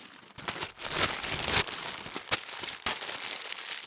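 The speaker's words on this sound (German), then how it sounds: "Man bewegt Papier, man faltet Papier und dabei raschelt es." Paper being moved and folded, a close crinkling and rustling that comes in uneven bursts with a few sharp crackles, heard alone with no voices.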